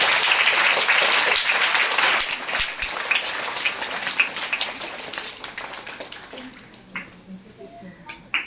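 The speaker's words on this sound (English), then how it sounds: "Give them a big applause." Audience at a school event applauds the chief guests on the dais, a dense, steady wash of clapping for several seconds that thins and fades toward the end, with a few scattered claps and a voice or two in the background.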